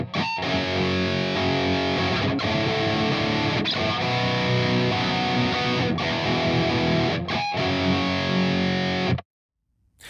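A heavily distorted electric guitar plays a riff slowly, a dense loud wall of sustained chords broken by a few sharp breaks, then cutting off abruptly near the end with no talking.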